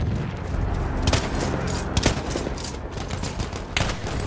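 Rapid overlapping gunfire in the video game Battlefield 1, a dense barrage of automatic weapon bursts and single shots with booming impacts, loud and continuous, no voices.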